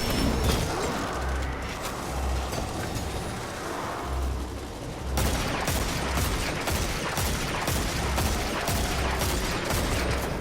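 Heavy gunfire from a large-calibre gun in the video game Dead Man's Tale, a dense, loud barrage of rapid shots that drops off briefly, then resumes hard and continuous over a low rhythmic thump.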